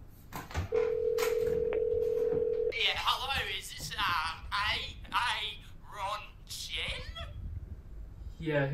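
A telephone line gives a steady tone for about two seconds before a prank call, followed by quick electronic chirps and a voice talking over the line.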